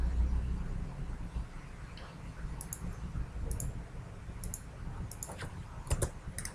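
Quiet computer mouse clicks and a few keyboard taps while working in 3D modelling software, sparse, sharp little clicks scattered over a low background hum, bunching up toward the end.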